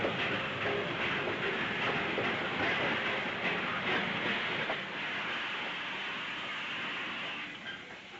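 A train rolls steadily along the rails at a railway station, a loud continuous rumble with rhythmic clickety-clack that eases slightly toward the end.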